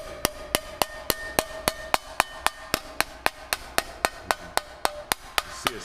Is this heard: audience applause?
no